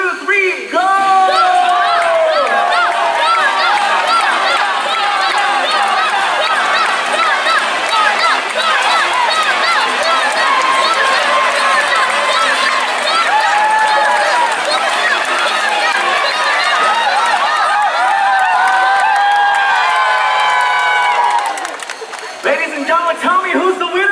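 Audience at a bird show in the Pools Amphitheater at Jurong Bird Park, Singapore, cheering, whooping and shouting together in a loud sustained roar that fades near the end.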